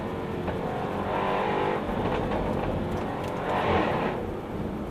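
A Jaguar F-Type R AWD drives along a winding road at the Mille Miglia, its engine a steady, fairly loud cabin drone that swells and eases with throttle, no talk heard.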